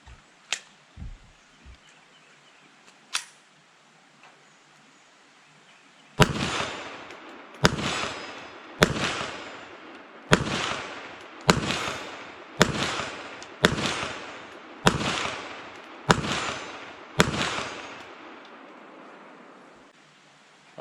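Walther WMP .22 Magnum pistol firing at a steel plate outdoors: a few sparse distant cracks, then about a dozen loud, sharp shots in a steady rhythm roughly a second apart, each with a short ringing tail.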